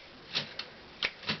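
An early Remington Model 7 typewriter being worked by hand, giving four sharp, separate mechanical clacks of keys and carriage spaced about half a second apart, close up with no talking.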